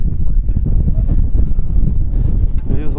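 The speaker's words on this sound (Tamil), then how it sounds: "காற்று சரியான காற்றடிக்குது." Strong wind gusting over a hilltop on the Velliangiri Hills trek, roaring loudly and buffeting the microphone without pause, with voices faintly under the rush.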